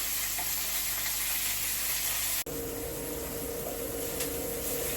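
Chopped onion frying in a pan, a loud dense hissing sizzle that runs continuously, briefly cut off midway and then resuming at a slightly different tone.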